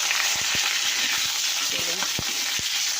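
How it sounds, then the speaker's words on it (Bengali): Eggplant pieces fry in hot oil with nigella seeds, a loud, steady hiss broken by several sharp spatula knocks as they are stirred. "দিয়ে দিচ্ছি বেগুনগুলো, ভালো করে নেড়ে দিই"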